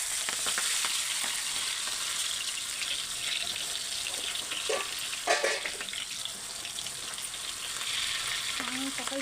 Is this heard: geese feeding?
no